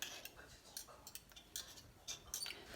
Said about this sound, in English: so my milk and butter is heated up, so I'm adding it to the flour and mix it up.